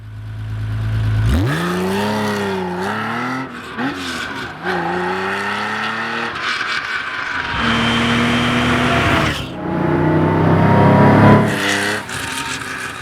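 A high-revving classic Porsche 911 engine on a track screams through gear changes, pitch climbing and dropping with each shift, loud and close with no talking.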